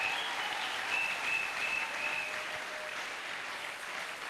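A church congregation applauds and cheers in praise of God, sustained, fairly distant clapping with a few whistles, steady then slowly easing.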